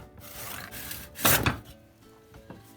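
A piece of applewood being trimmed down for a hammer handle: a short burst of rough cutting or rasping around the middle, set among softer scraping and handling noises, close by.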